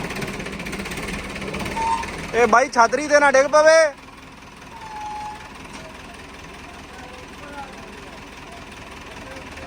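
A 5911 tractor pulling out a tree drones steadily in the background, its low engine rumble continuing throughout while someone shouts briefly over it.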